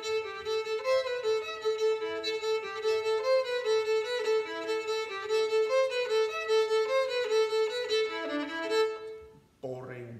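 A bowed string instrument from the violin, viola and cello family plays a plain passage with separate, unslurred bow strokes, each note sounded evenly in a steady rhythm for about nine seconds, then a brief pause and a short voice.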